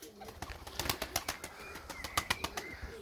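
Pigeons in a loft make a quick series of sharp clicks and wing-claps with soft cooing beneath, close by and fairly quiet.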